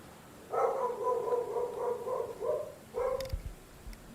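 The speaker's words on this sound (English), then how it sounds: "Oh, good, he's barking again." A dog barks from a distance during a Medieval Dynasty live stream, a rapid run of muffled barks lasting about two seconds, a pause, then a shorter burst, over a faint steady hum.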